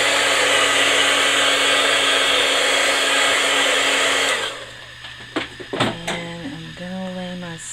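A hair dryer blows on a painted stencil, a loud steady whir that runs for about four seconds and then cuts off, leaving a quieter stretch with scattered handling sounds and a voice.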